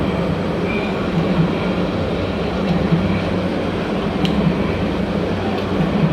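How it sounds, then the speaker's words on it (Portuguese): Train rolling past with a continuous broad rumble and rattle at steady loudness, a few faint squeaks above it, no talk heard. "Vão passar muitos trens aqui"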